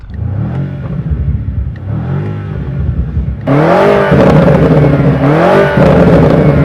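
A car engine accelerating hard, its combustion roar climbing in pitch through two pulls separated by a brief gear change, the second surge louder and fuller, close and continuous with no talk.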